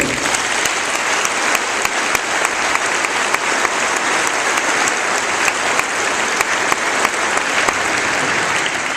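Steady, dense applause from a crowd honoring a group of young wrestlers at a high school athletic hall of fame ceremony, loud and sustained throughout with no pause.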